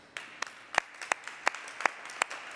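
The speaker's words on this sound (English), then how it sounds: "All right, applause from here, Albert." Sparse, evenly spaced hand claps at a virtual demo day for a 5G consumer entertainment program, sounding like one or a few people clapping in a steady rhythm, fairly faint and close.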